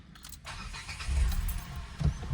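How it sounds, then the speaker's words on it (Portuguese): A Renault Kwid Outsider starts up with a short crank and catch, settling into a low, mid-pitched idle rumble heard close by with no talk. "Vamos ligar o carro aqui, ó."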